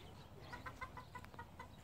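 Farm chickens clucking close by on a rural property, a quick run of short clucks over a quiet background, soft and brief.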